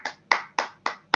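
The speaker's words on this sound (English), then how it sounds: "Clap your hands, everybody." Clapping at an award ceremony: five crisp, evenly spaced claps in a steady rhythm, close and clear with nothing else underneath, more like a single person's hands than a full crowd.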